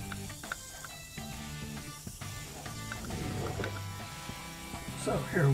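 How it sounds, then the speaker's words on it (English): A Stahly Live Blade vibrating razor is wound up by hand, giving a close, ratcheting click and whir of its inner mechanism over a quiet background. "Wind it up. It's got a mechanism inside that causes the thing to vibrate."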